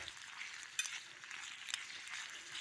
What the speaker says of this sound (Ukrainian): Моя саркосцифа вже зварена, вже починає смажитися.